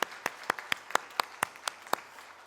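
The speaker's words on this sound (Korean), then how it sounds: "박수 한번 보내주실까요? 열연을 하신 두 분을 위해서." Sparse applause from a small congregation at a Sunday church service, about a dozen distinct, evenly spaced claps, fairly quiet and heard with no talk over it.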